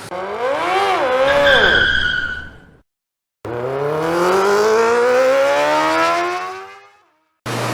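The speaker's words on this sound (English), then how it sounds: "The bike is on the dyno and we're gonna get just a couple baseline runs done." A stock Triumph Trident 660 motorcycle on an indoor dyno revs up hard in two long sweeping pulls with a brief silence between, pitch climbing steadily each time, close and roaring.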